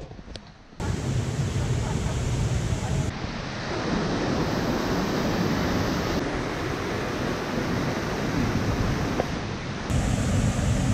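A waterfall near the Dom Nad Wodospadem guesthouse in Międzygórze gives a constant broad roar close by, mixed with wind buffeting the microphone. Faint voices sit under it.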